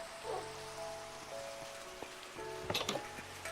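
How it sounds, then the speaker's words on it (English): Rain patters in the blocky sandbox game Minecraft, a quiet steady hiss of drops on surfaces mixed with faint tones and a few sharp clicks near the end, with no one talking. "Guess we're gonna have a sleep and get rid of this rain."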